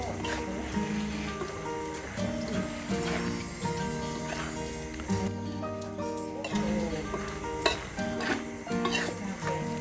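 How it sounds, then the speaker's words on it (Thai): Apple snails stir-fried in a pan with curry paste, pickled bamboo shoots, kaffir lime leaves and holy basil, producing steady scraping and clattering under background music, with someone talking over it. "ผัดต่ออีกนิดนึงครับ"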